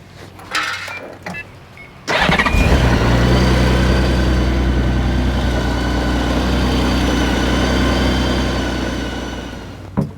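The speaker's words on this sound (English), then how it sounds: "we're going to crank up the engine, and I'm just going to let it run for a few minutes" A motorcycle engine cranks and fires after some brief handling noises, then settles into a steady, loud idle with a low rumble that runs to the end, fading slightly near the close.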